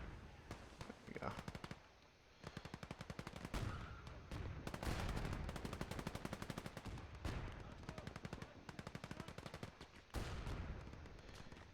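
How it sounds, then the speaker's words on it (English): Rapid machine-gun fire from an emplacement in the World War II game Call to Arms: Gates of Hell rattles in long, dense bursts with brief pauses, mixed with other distant gunfire and occasional speech. "that emplacement is firing on this one guy I have left"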